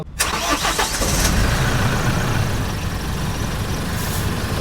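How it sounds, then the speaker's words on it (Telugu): A Tata LPT 1916 truck's 3.3 litre diesel engine cranks briefly and catches, then settles into a loud, steady rumbling idle heard close up and alone. "ఇప్పుడైతే ఇంజిన్ క్రాంక్ చేస్తానండి సౌండ్ అయితే విందాం"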